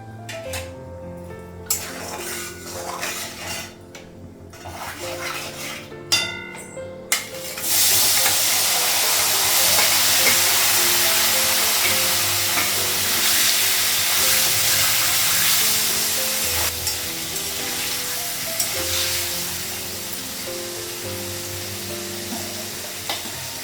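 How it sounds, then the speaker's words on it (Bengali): Paneer frying in a pan with turmeric and salt, a loud, steady sizzle that swells after the first few seconds and holds strong, with occasional clinks of utensils and no talking. "পনিরটা একটু ভেজে নেব"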